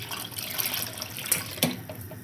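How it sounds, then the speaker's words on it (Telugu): Water is poured into a pot of vegetable dhalcha (lentil dal) as it cooks, making a steady splashing, running-water sound for about two seconds, with a couple of sharper splashes near the end. "అందుకనేసి నేను ఇంకొంచెం వాటర్ కూడా వేసుకుంటున్నాను"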